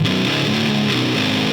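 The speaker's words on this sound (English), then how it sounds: "this heavy distortion in the legacy overdrive section" A thick, saturated electric guitar tone with heavy overdrive distortion from a Line 6 Helix, sustained and loud, notes shifting slightly over a dense buzzing wash.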